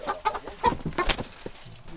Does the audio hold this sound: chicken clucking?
yes